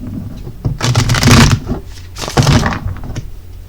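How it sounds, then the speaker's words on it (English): Oracle cards are shuffled in two quick riffling bursts, close and crisp, with a short pause between them. "let's go ahead and pull another oracle card"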